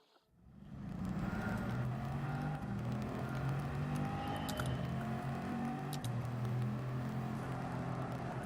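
A BMW M4 driven in the video game Gran Turismo 7 starts up from near silence into a steady engine hum with varying pitch and faint tire and road noise.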